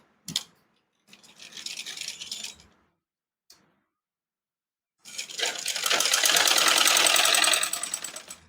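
A sewing machine stitches a fold on a maxi dress sleeve, with a short burst of rapid needle whirring, a pause with a couple of small clicks, then a longer, louder run of fast stitching close by.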